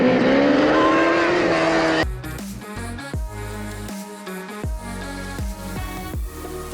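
A car engine roars with squealing tires for about two seconds, loud and close, before music takes over for the rest of the stretch.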